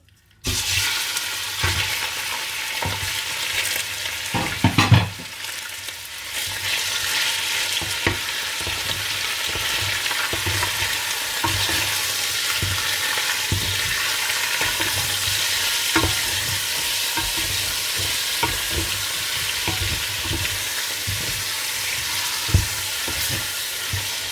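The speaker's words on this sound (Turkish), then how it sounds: "Bunu güzelce kızarttım." Chicken breast sizzling and frying in a pan, a continuous crackling hiss with occasional stirring scrapes, close and steady throughout.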